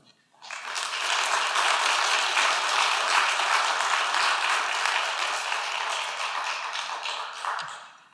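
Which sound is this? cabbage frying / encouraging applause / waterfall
encouraging applause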